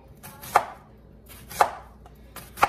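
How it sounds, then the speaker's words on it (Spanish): A knife chops onion finely on a board, making three sharp, evenly spaced knocks about a second apart, close and clear against a quiet background. "Ahora voy a picar la cebolla."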